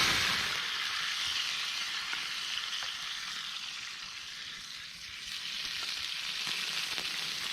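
Mushrooms and other food cooking in a pan over a campfire flame make a constant, soft, hissing sizzle with faint crackles, with no talk.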